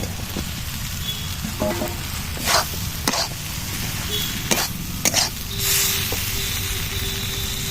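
Fried soybean chunks go into a hot pan with a steady sizzle, and a few sharp scrapes and knocks of stirring cut through it. A short cough-like sound is also heard.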